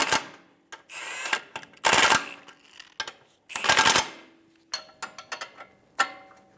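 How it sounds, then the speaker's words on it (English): Ratchet with an 18mm socket snugging down two nuts and a bolt on the lower ball joint of a 2007-2011 Toyota Camry, giving close, rapid metallic clicking bursts separated by brief pauses. "Using an 18mm socket, we're going to snug down the two nuts and the bolt."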